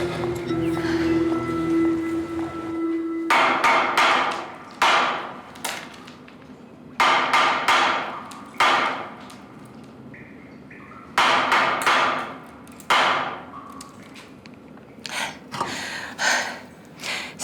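A metal pipe is banged in groups of sharp, ringing knocks with short gaps between bursts, loud and close, following a faint low hum at the start.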